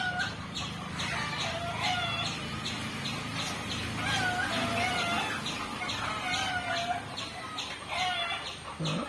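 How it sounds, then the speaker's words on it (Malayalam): A free-ranging native hen clucks among her chicks, whose high peeping calls come in steady bursts close by for several seconds. "ഇന്ന് കോഴിയും കുഞ്ഞുങ്ങളെ ഞങ്ങൾ ഇങ്ങോട്ട് തുറന്നു വിട്ടിട്ടുണ്ട്."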